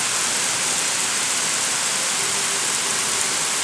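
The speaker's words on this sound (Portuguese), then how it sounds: "Chuva com muita intensidade." Heavy, intense rain pours steadily at night in Camocim, Ceará, a dense unbroken hiss of water hitting surfaces from start to finish, loud and with no voices over it.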